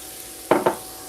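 Lobster mushrooms and chanterelles charring in oil in a pan, a quiet sizzle punctuated by two quick, close stirring scrapes in succession.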